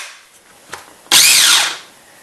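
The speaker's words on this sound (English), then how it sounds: "My little Cuisinart mini prep is another one of my favorite power tools." Cuisinart Mini-Prep food processor motor whirring loudly for about a second after a brief click, its pitch rising and falling as it chops, alone with no talk.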